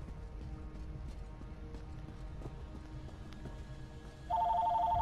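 A phone starts ringing near the end, a steady repeating electronic ring that jumps in loudly after a stretch of quiet low room noise.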